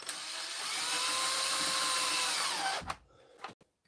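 A Milwaukee power drill whines loudly and steadily for almost three seconds while pulling a white tab out of a screw hole, its pitch sliding down as it stops, followed by a couple of short clicks.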